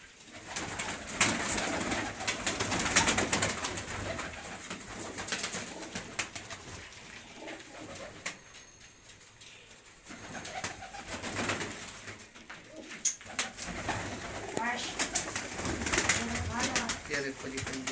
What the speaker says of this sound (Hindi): लो जी देखो ये बड़े जोड़े वाले कबूतर हैं इनके